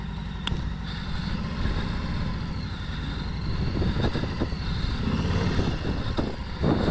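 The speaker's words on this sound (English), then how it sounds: "So let's get the bike fired up." Low engine rumble from a 2021 Harley-Davidson Softail Slim motorcycle with a Milwaukee-Eight 107 V-twin, heard steadily while riding, with a dense throbbing drone and some wind noise, no talking.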